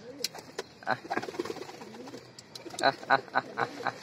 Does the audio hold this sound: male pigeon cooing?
yes